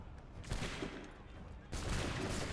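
A musket volley rings out in Assassin's Creed 3 during a Boston Massacre scene: a dense burst of gunfire at about half a second, then a second, louder sustained crackle of shots near the end, with no talk.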